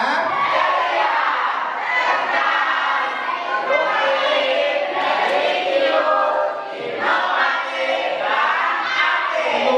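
A crowd of school students at a morning assembly shout their cheer together, a loud, dense wall of young voices rising and falling in bursts for about ten seconds.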